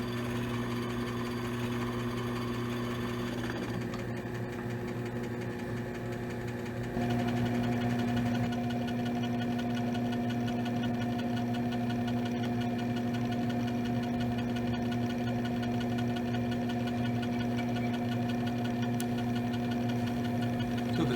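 A gemstone faceting machine cuts the table facet with a continuous motor hum and steady tonal whine, close and even. It grows slightly louder partway through, and nobody speaks.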